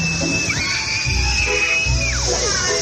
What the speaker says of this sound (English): You can hear the cicadas and people screaming.